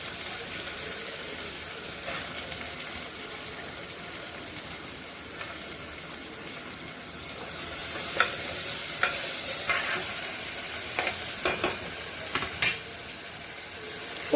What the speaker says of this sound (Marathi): आता आपण याच्यामध्ये कांदा घालून घेणार आहोत।